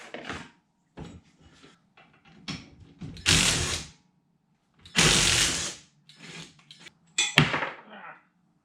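A ratchet wrench loosening the fenders on a budget minibike build, bursts of rapid metallic clicking separated by pauses, close and fairly loud, with some clanks and handling noise in between.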